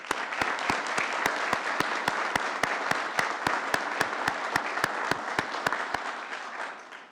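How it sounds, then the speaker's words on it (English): Audience at a city council meeting applauding school district teachers and arts educators, a continuous patter of clapping with sharp regular clicks cutting through, fading near the end. "Please join me in applauding the incredible teachers and arts educators in the Peoria"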